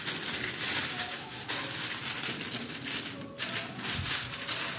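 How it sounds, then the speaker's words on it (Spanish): Aluminium foil being torn and crinkled as it is pressed over a Chilean-style flan, producing close, steady rustling and crackling with a few sharper tearing accents. "ahora le ponemos un papel de esto que es aluminio, cortamos un poco y lo ponemos encima."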